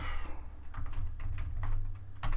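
Computer keys clatter in a quick run of soft taps at a nearby keyboard over a steady low hum.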